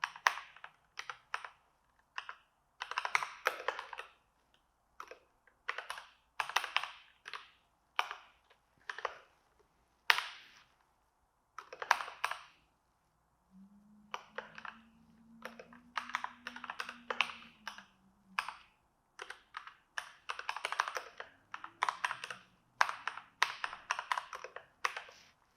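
Bursts of fast typing on a computer keyboard while entering a database command, clicking in irregular runs separated by pauses, close and fairly quiet, with a soft low hum partway through and no speech.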